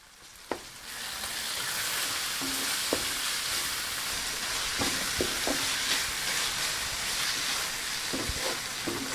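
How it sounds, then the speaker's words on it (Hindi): Garlic-ginger paste with turmeric and salt fries in a pan, a continuous close sizzle punctuated by scattered scraping stirs and light spoon taps on the pan. "इसमें लहसुन और अदरक का पेस्ट शामिल करके थोड़ा भून लेंगे।"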